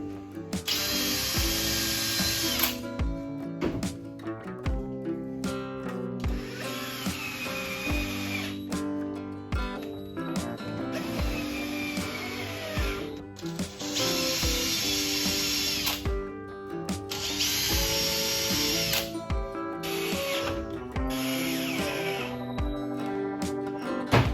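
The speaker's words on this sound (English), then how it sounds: "He then drills and screws in screws." A power drill bores into and drives screws through a wooden boat hull scarf joint, loud whirring bursts that start and stop in repeated cycles with short mechanical pauses between them.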